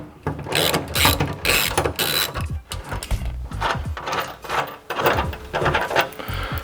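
A ratchet wrench loosens a bolt on a mounting part in quick bursts of clicking pawl strokes, close and fairly loud, repeating through the moment with short pauses between pulls.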